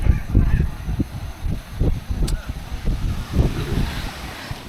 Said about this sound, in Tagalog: Lakas ng hangin, par.